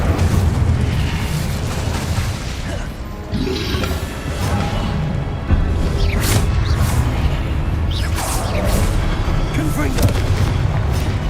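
Incendio fire spells cast repeatedly in Hogwarts Legacy, booming fiery bursts over a continuous rumbling battle din, with speech mixed in.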